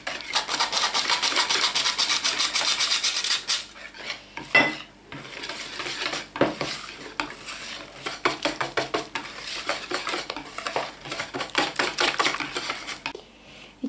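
Sweet bun dough is being mixed with flour in a bowl: fast rhythmic scraping and rubbing strokes of a spoon, dense and steady at first, then broken into choppy bursts with pauses, close and without any voice.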